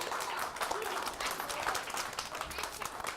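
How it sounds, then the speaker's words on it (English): An audience applauds a magician's assistant at a family magic show, a steady wash of clapping at moderate distance that holds evenly throughout without any voice. "Let's give my assistant a big round of applause."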